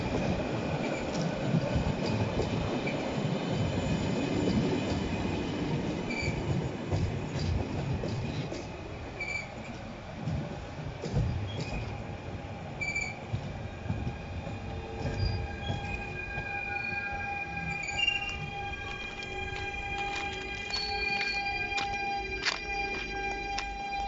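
A Stadler passenger train, Intercity IC31112 bound for Zakopane, pulls out of Warszawa Wschodnia station. Steady rolling rumble with wheel squeal and rail clicks rises as the train gathers pace, with no speech.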